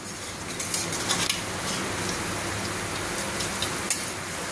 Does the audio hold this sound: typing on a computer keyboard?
no